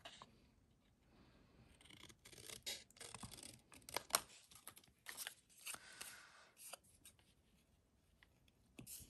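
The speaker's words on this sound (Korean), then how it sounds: "언제까지 손으로 이렇게 찢을 건 아니라서 깔끔하게 한번 가위로" Scissors snip through a Tabasco hot sauce label for paper scrapbooking, trimming around its edges in a run of close, crisp cuts and rustles with short pauses between them.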